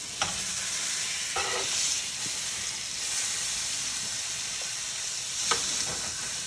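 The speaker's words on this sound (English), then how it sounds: "I'm gonna sear the edge of this a little bit, some of that fat." The fat edge of a steak sears in a hot pan with mushrooms, giving a loud, continuous sizzling hiss close by, broken by a few sharp scrapes and taps as the meat is shifted.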